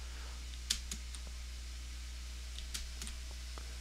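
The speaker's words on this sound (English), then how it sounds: "All I can hear is your keyboard clicking." A computer keyboard clicks faintly during Minecraft play, with a few scattered, sharp keystrokes over a low steady hum, close but quiet and irregular in rhythm.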